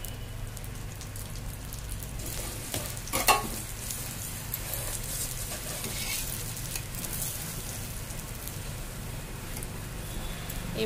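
Radish and ridge gourd paratha frying in ghee on a pan, a continuous close crackling sizzle like steady rain, with a brief louder spatter and scrape partway through and no talk.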